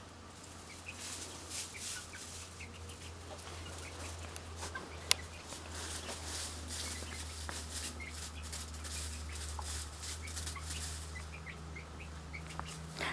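Backyard chickens, including young birds with a hen, cluck and chirp softly and intermittently over a steady low hum, with scattered faint calls and no talking.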